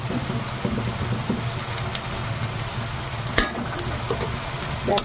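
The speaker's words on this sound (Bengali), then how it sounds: "এবার এটাকে একটু ভেজে দিব" Khoira fish fry in a pan with a steady, close sizzle and crackle of hot oil, broken by a sharp spoon clink near the middle and a short scrape at the end.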